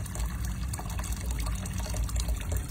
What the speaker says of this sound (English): soon it's gonna overflow in the top and it'll come out the bottom